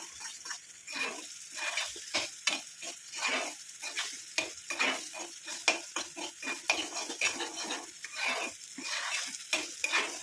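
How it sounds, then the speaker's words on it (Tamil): Gooseberry juice being stirred into about 100 ml of hot oil for a hair dye oil, a rapid rhythmic series of spoon strokes scraping the pan over a continuous sizzling hiss, close and steady with no voices. "அது வரைக்கும் இதை வந்து இந்த மாதிரி கலந்து விட்டுக்கிட்டே இருங்க"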